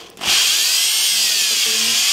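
A power drill whirs up sharply and bores into wood, a high, steady whine sustained for about two seconds.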